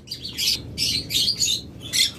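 Pet birds at a bird shop chirp in a lively chorus, with several bright bursts of tweeting that come close together and fairly near over a low, steady background murmur.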